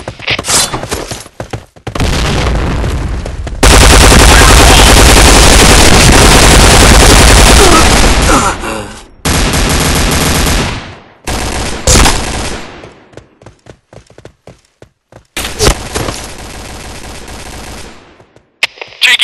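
Loud machine gun fire in sustained automatic bursts, with heavy rapid rattling, a long dense volley in the middle and sharp single shots and thuds trailing off between shorter bursts.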